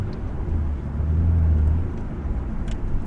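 A 1999 Nissan Skyline R34 GTR V-Spec N1 on a test drive gives a steady, deep engine drone from inside the cabin, swelling slightly midway and then settling, with no talk over it.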